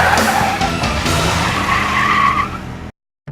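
A classic car nicknamed Modena fires up into a loud, steady engine roar that holds for about three seconds and then cuts off abruptly.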